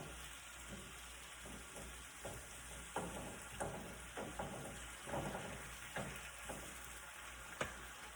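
Salsa, spinach and black beans sizzle on a griddle for a breakfast burrito, a low quiet hiss broken by scattered sharp spatula taps and clicks, with no talk.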